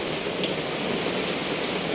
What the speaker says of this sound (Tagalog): Malakas ang ulan dahil may bagyo raw.